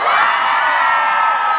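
A concert crowd screams and cheers on a countdown cue, a loud sustained roar of whoops and shrieks filling the whole moment without any talk over it.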